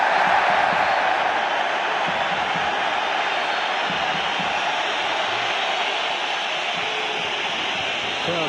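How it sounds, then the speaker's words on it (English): Football stadium crowd at a 2017-18 Champions League match between Barcelona and Chelsea, a loud sustained roar of disapproval aimed at a player, steady broadband jeering and whistling throughout with no talk over it. "Crowd showing their displeasure towards Antonio Rudiger."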